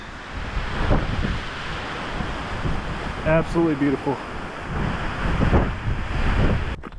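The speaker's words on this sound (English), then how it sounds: "it's pretty cold with that wind blowing through here" Strong wind gusting across a rocky mountain cliffside on a cold hike in North Carolina, a steady roaring buffet against the microphone with surges, while a person speaks briefly.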